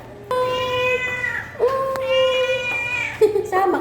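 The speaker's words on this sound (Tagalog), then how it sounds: "Ay, may pusa." A cat meows three times in close succession, drawn-out and tonal, loud and near, with a brief rise at the end of each call and no talking over it.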